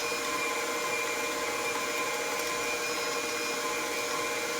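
Electric kitchen appliance standing in for a hand mixer, whirring steadily as it blends sweet potato pie filling, a constant loud motor hum with no pauses or talk.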